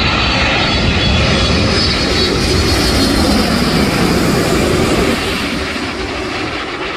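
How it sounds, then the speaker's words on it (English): Cathay Pacific Boeing 747 cargo freighter jet passing at an airport, a loud, continuous broadband engine roar filling the whole stretch and easing slightly toward the end. "A rare freighter on the north side, Queen of the Skies from Anchorage."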